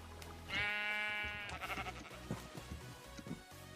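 A sheep in the Minecraft video game gives a clear, loud bleat, followed by softer game noises and faint background sounds.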